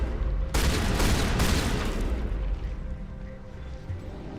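A shotgun fires in the video game Mass Effect Legendary Edition, with a loud blast followed by a second one and a long rumbling tail, close and heavy, with no talk.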